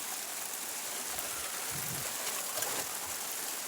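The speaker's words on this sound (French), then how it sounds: "Il pleut, là." Rain falling on a makeshift shelter: a steady, even hiss of drops with faint low patters, continuous and moderately quiet, and no one speaking.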